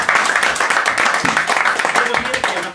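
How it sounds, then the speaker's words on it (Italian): A small audience claps for a donation at a presentation, with sharp, fairly close handclaps in a loose rhythm. Voices talk over the clapping throughout. "Quindi un applauso."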